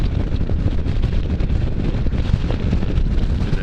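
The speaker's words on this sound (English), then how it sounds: "Man, this wind is crazy." Strong wind buffets the microphone while riding, a continuous loud low roar with gusty fluctuations throughout and no speech.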